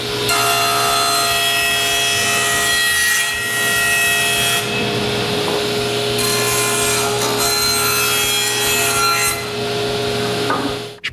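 A saw blade makes its first cut through a wooden garage door panel in a home workshop, a steady, loud grinding rasp of blade on wood running nearly unbroken and close by, with no voices.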